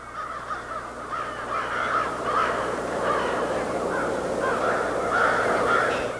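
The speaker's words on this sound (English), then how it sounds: "Just imagine looking out of your window every evening and seeing this river of birds passing over." A huge flock of crows caws continuously while passing over a town's roost area in the evening, many harsh overlapping calls forming a dense, steady chorus at moderate distance.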